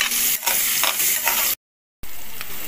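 Sliced onions with a pinch of turmeric frying in a pan for a traditional drumstick curry: a steady, fairly loud sizzle with light stirring scrapes, cut by a brief dropout to silence before the frying hiss resumes.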